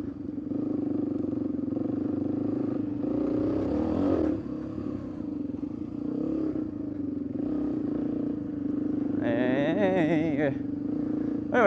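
An off-road vehicle drives over the rocky terrain of Moon Rocks OHV in Nevada, its engine droning steadily and close with a rise in revs near the end, while people talk over it.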